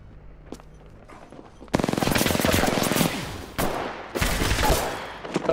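Rapid automatic gunfire crackles in a shooter video game, with long bursts of dense shots that cut out and resume, loud and close, after a quieter opening.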